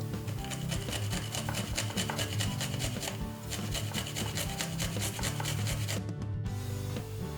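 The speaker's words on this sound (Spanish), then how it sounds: "Ahora cogemos el diente de ajo y lo rallamos, lo picamos muy finito." A garlic clove rubbed against a grater in rapid, even back-and-forth strokes, a close, continuous rasping scrape that stops briefly near the end.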